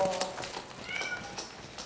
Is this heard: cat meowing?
yes